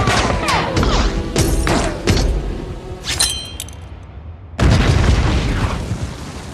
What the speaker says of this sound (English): kills him with a bomb blast